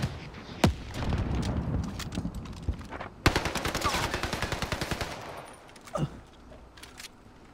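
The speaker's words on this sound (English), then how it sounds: "Incoming fire!" Automatic gunfire in the video game Warzone crackles in dense bursts, including one long rapid rattling volley, with a few sharper single shots and distant booms.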